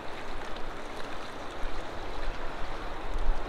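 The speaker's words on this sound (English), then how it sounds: "it's spilling way over the dam" Floodwater from a swollen river pours over a dam in a steady, dense roar of rushing water with low rumbling undertones, continuous and fairly loud throughout, with no voices.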